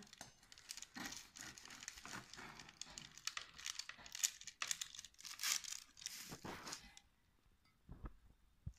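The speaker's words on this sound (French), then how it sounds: "Je vais couper au milieu comme ça vous voyez bien" A knife saws down through the middle of a cooled homemade babka, giving close, steady crackly crunching and tearing of the crust for about seven seconds before going quiet.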